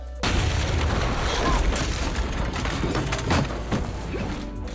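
Several deep booms and crashing blasts rumble in close succession, loud and heavy, with debris-like clatter between them.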